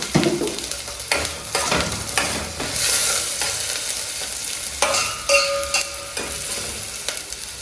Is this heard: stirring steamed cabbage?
yes